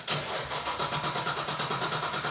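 A Nissan GT-R engine swapped into a Datsun 240Z cranks over in a rapid, even rhythm of starter pulses, close and fairly loud, without catching.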